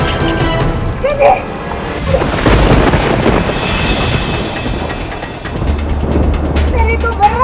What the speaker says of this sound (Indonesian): Nih hujan,